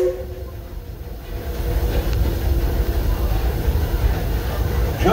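Disneyland Railroad excursion train rolling along the rails, a steady loud low rumble and rattle of the cars heard from on board, continuous throughout.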